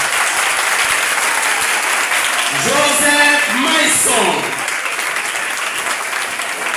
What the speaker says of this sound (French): Les fans de la 9e année doivent applaudir leurs joueurs.